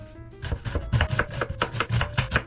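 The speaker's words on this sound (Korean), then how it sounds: "그리고 양파 다듬기" A knife chops an onion on a cutting board in quick, regular strokes, about a dozen crisp close thuds falling in a steady rhythm.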